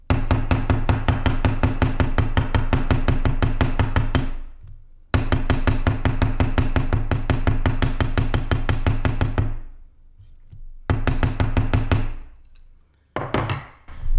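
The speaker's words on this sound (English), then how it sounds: "I'll show you the difference of what happens when you use this hammer" Steady, rapid hammer blows in long bursts, loud and close, with brief pauses between runs and no talking.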